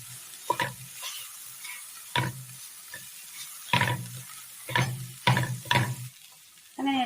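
Salt-boiled green peas being stirred and mixed in a pan, with a series of distinct scraping and clanking spoon strokes over a faint background sizzle.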